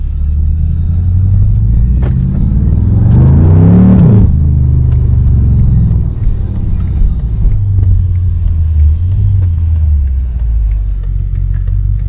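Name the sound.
straight-piped BMW exhaust while cruising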